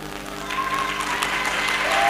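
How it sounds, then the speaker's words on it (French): An audience claps steadily, a dense and sustained patter of applause that swells slightly toward the end. "On peut l'applaudir bien fort."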